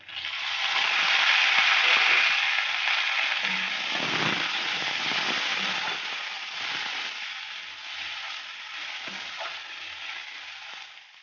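Onions and tomatoes fry in hot oil for a Bengali chicken curry, giving a loud, steady close sizzle with crackles and occasional stirring scrapes, slowly easing off toward the end.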